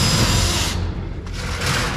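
Power driver running sheet metal screws, 3/4-inch self-tappers, into flashing on a grain bin floor, a close, loud whirring burst that halts briefly midway and then starts again.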